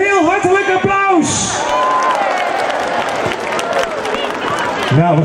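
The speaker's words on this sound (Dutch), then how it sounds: "geef de Sint een heel hartelijk applaus" A crowd claps and cheers for Sinterklaas arriving in Boxtel in 2013, a broad wash of applause with scattered whoops, while an amplified voice speaks at the start and end.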